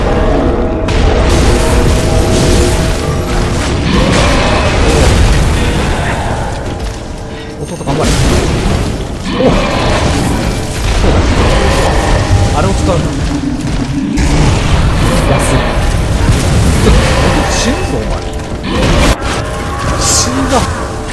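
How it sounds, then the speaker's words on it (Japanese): Heavy cannon fire booms repeatedly through Bloodborne's The Old Hunters DLC, the loud blasts landing in bursts amid a dense, continuous wash of game combat and mechanical clatter. "大砲がいるんだよ"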